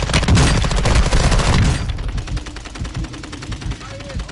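Gunfire in a battle royale video game, a loud burst of rapid automatic shots at first, then a quieter run of repeated shots, with talk nearby.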